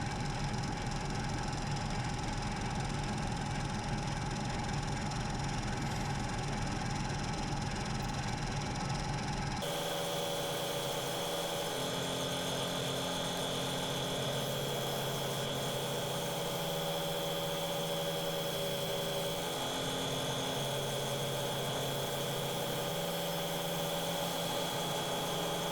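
A wood lathe turns a bog oak bowl while a bowl gouge cuts the foot and pedestal on its base, throwing resin shavings. A steady, continuous machine drone hums throughout and shifts tone partway through. No one speaks.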